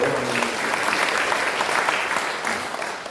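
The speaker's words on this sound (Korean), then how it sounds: "여러분 큰 박수로" An indoor audience at a Korean prayer breakfast claps steadily and loudly, sustained applause throughout with no pause.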